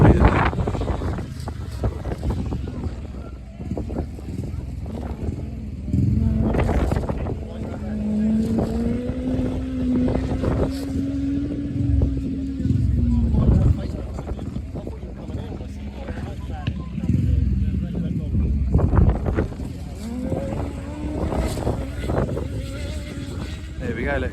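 Racing motorcycles on a flying lap at a test day on the Swingfield track, their engines rising and falling in pitch as they approach and pass, with gusty wind noise on the microphone and someone talking.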